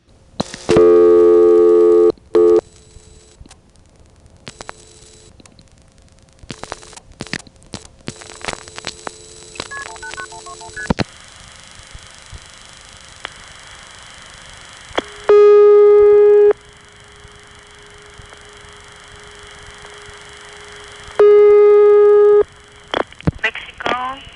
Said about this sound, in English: This time the ringtone sounds more normal.